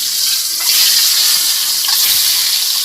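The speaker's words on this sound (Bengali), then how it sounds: "এখন আমি ডিমটা ভেজে নিচ্ছি।" Boiled eggs fry in a pan of oil, giving a loud, continuous, close-up hiss that holds steady for a few seconds with slight swells.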